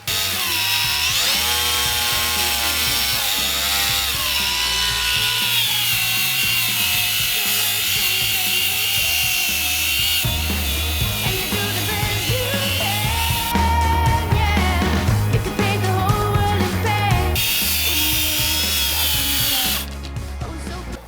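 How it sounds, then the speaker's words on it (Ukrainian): A GRAND cordless angle grinder fitted with a metal wire brush scours and brushes the surface of wood, a loud continuous high whine with a rough scratching texture that holds steady throughout. "встановив таку металеву щітку і давайте попробуємо, як працює з брашуванням, як зачищає дерево"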